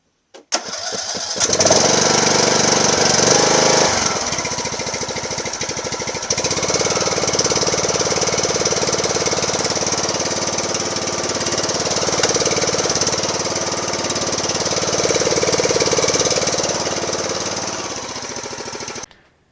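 A lawn mower engine, refitted with its fuel tank and battery, cranks briefly and then catches, running loudly and steadily with a rough, knocking chug that eases slightly toward the end before cutting off.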